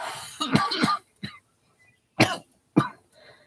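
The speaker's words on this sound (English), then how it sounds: "Coughing my lungs out" Several harsh, throaty coughs in short bursts, two close together and then a pair more after a pause, with quiet gaps between.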